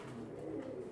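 Pigeons coo in a loft, a soft, low continuous burbling close by for under a second, with no talking.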